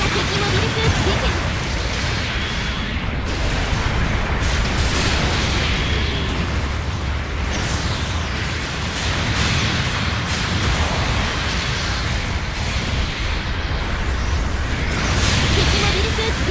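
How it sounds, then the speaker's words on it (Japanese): Support artillery explosions in Gundam Battle Operation 2 rumble as a dense, continuous barrage of booms and bursts, loud and sustained with no gaps, filling the whole stretch. "後方部隊から支援砲撃が来ます"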